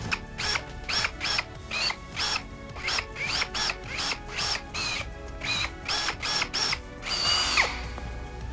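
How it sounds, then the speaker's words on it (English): A power drill bores through dried sunflower seed pods, whirring in a steady series of short bursts with brief pauses between, close and loud, with one longer whine near the end. "I'm gonna drill these for the rest of my life."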